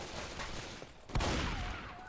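A burst of rapid gunfire in the video game Left 4 Dead 2, several close, loud shots cracking out in quick succession over game ambience, no speech.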